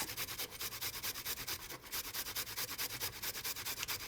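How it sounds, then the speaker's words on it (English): Food is finely grated on a grater in a home kitchen while spaghetti with ribs is being prepared. Quick rhythmic rasping strokes repeat steadily, about five per second, close and fairly quiet, with no talking. "I'll do a fine grate on these."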